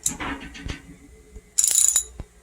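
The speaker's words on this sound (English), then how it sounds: "Let's pop this spark plug out." Ratchet wrench working a spark plug loose on a Coleman Powermate generator, a few scattered close clicks and then a quick burst of rapid ratcheting.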